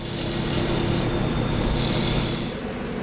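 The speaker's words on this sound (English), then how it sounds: "I'm using my new carbide cutter here to rough out the shape of the ball" Carbide cutter roughing out a sapele wood bowl on a lathe, a continuous loud rasping scrape lasting a few seconds with slight shifts in tone as the tool rides the wood.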